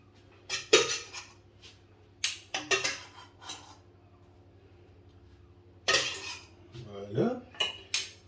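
Plates and cutlery clinking close by while a Caesar salad with salmon is plated, a series of sharp separate clinks and scrapes spaced by quiet pauses, with a low steady hum beneath.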